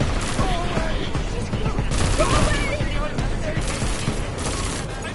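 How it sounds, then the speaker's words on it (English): Rapid sustained gunfire from Deus Ex: Mankind Divided, dense bursts of shots running continuously and loudly, with voices and shouting mixed in underneath. "Someone shooting at us!"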